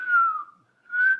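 A person whistles two sustained, clear notes, the first gliding slightly downward before fading out and the second rising back in after a short silence, close and alone.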